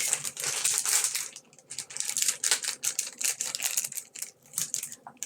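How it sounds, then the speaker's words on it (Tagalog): Scissors snipping through the plastic wrapper of a Maxim's twin cake, close and crisp, with a rapid series of crinkly cutting and rustling sounds running throughout. "Kunin natin ang scissor. Para ikupit-kupit."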